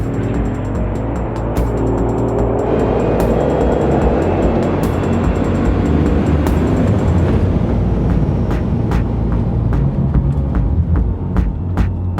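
A Bugatti Chiron engine starts and settles into a loud, steady, deep rumbling idle that throbs continuously from nearby with no pauses.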